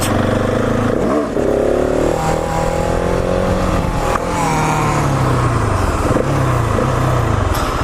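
A KTM 701 supermoto motorcycle held in a wheelie on a stunt lot, its single-cylinder engine loud and close, revving and holding steady throttle with rising and falling pitch throughout.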